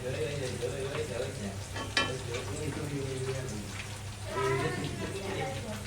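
Turmeric and coriander powder sautéing in a pan for a Bengali curry, a steady close sizzle with stirring scrapes, while someone talks over it.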